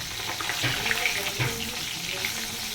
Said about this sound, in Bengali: এই যে কী কী মাছ ভাজা করছি দেখো, ভোলা মাছ আছে আর আমুদি মাছ আছে।